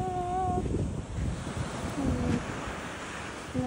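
Sea waves wash onto a beach in a steady, close surf roar, with wind buffeting the microphone throughout and no talking.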